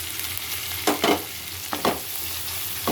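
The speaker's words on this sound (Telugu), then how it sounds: "చిక్కుడుకాయ ముక్కలు కూడా వేసేస్తున్నాను, ఎందుకంటే ఈ ఉల్లిపాయ చిక్కుడుకాయ కూడా వేగాలి కదా." Chopped onion, green chili and flat bean pieces frying in a pan, a steady hiss broken by a few scraping stirs of the spoon.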